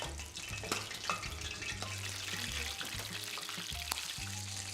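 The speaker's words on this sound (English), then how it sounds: "oyster into the batter, wave off excess, gently sear the underneath of the oyster" Battered oysters sear in a hot pan, giving a steady close sizzle and crackle that runs throughout, with occasional light clinks and no talking.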